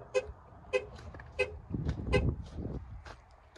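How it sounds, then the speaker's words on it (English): Short, repeated honks of a car horn sound in a loose rhythm, moderately distant, alongside some low rumbling vehicle noise. "Did I just hear a horn honk?"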